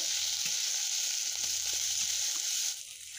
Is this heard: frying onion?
yes